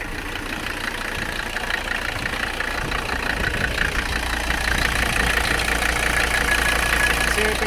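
A Mercedes 300CD diesel engine with its motor mounts removed idles close by, giving a steady, even rumble with a rough knocking texture throughout.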